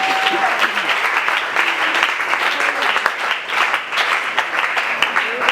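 A church congregation at a French-language worship service bursts into sustained applause, dense rapid clapping from many hands filling the room evenly throughout, with faint voices mixed into the crowd.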